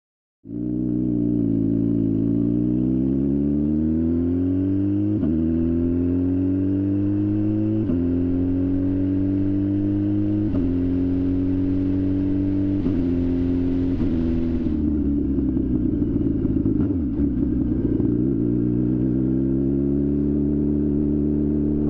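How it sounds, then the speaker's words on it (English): A turbocharged Suzuki Hayabusa motorcycle engine revs repeatedly and loudly up close, each rising pull climbing in pitch before dropping back, with a deep rumbling idle between blips. "Turbocharged Hayabusa, baby."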